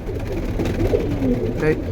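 A large pigeon at a bird market gives soft, low coos beneath steady nearby talk and background crowd murmur.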